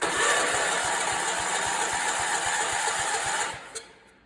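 An Allis Chalmers 416 garden tractor engine cranks and turns over with a steady rapid chugging rhythm, loud and close, then cuts off and fades near the end.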